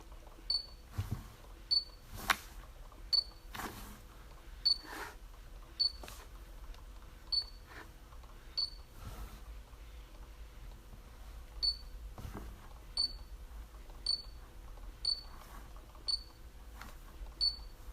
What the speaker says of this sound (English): Now on the 30mm Sigma lens, we're doing a little autofocus test.